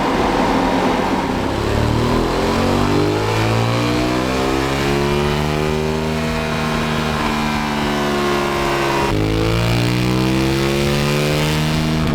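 An Aprilia Dorsoduro 900 motorcycle engine (Euro 4) revs hard on a dyno, a loud sustained run climbing steadily in pitch, dropping back briefly, then rising again, with no voices.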